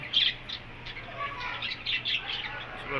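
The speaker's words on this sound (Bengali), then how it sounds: "এই যে পাখির কিচির মিচির ছোট ছোট পাখি" Small birds chirp and twitter continuously in a bird enclosure on a Saudi farm, with a busy overlapping chorus of high, quick calls at moderate distance.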